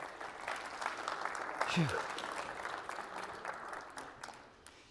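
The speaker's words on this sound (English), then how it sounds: "One more round of applause for Blake." Audience applause for a volunteer at a live mental-math show, a broad wash of clapping that swells and slowly fades, with a voice speaking briefly over it.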